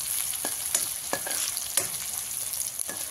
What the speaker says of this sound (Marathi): आता आपण ह्याला लाल होईपर्यंत हलवून घेऊया.